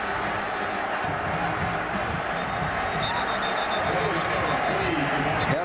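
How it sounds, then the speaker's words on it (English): Stadium crowd at a 2006 Tennessee vs South Carolina college football game reacting to a Jumbotron replay, a steady loud wash of murmuring and shouting voices with a faint high whistle-like tone entering partway through. "And now the crowd reacting to what they see on the Jumbotron"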